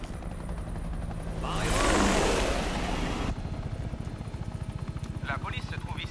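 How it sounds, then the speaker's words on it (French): A helicopter flies overhead in an outdoor scene as a police hostage standoff unfolds, a broad rotor roar swelling to a loud peak and then giving way to a steady rhythmic chopping, with a few brief high squeals near the end. "Avec ses bons dieux d'hélicoptère."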